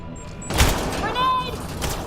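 Gunfire in the video game Mass Effect: Andromeda: a few short, loud broadband shots near the start, with a voice speaking over the combat noise.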